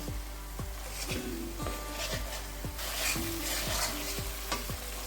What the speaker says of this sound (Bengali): আদা রসুন বাটাটাও একটু ভেজে নিয়ে